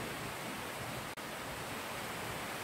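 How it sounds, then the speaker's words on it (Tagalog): Dense, steady rain hisses loudly and evenly, with a brief momentary dropout partway through. "Ang lakas ng ulan."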